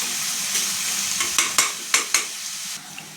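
Chopped onion frying hard in a pan over high flame, a loud continuous sizzle broken by four quick stirring scrapes near the end.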